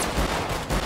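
Gunfire in GTA 5 roleplay: a dense, loud burst of shots, close and continuous, with two stronger thumps standing out in the rapid volley and no talk.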